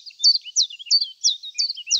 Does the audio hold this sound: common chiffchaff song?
yes